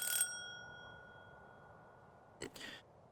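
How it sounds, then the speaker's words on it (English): A doorbell chime in a visual novel mod plays a bright ringing tone at the very start, which decays over about a second, followed later by a brief muffled rustle, with no other sound around it. "I could barely hear the faint reverberation of the doorbell within the house's interior"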